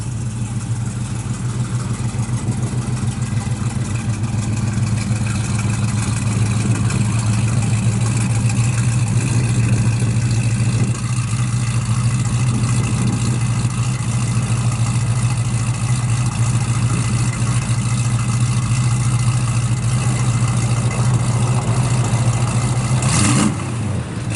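A 1968 Chevrolet Camaro SS with a cam rumbles steadily through dual exhaust at a loud, close idle for the full length, a deep even drone with no clear revving.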